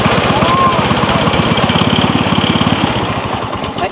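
Small petrol engine on a rice harvesting machine runs steadily close by, a rapid even chugging pulse throughout, loud and alone.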